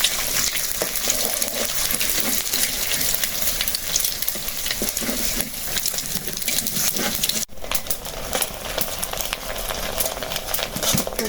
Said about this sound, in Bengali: যে কড়া করে ভেজে নিলাম।